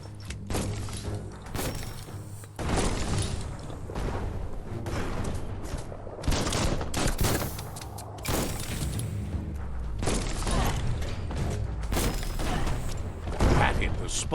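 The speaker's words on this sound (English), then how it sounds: "That's a bomb lobber." Heavy booms and thuds burst from a bomb lobber weapon in the video game Biomutant, repeated loud impacts layered over dense action noise and music, with a voice talking throughout.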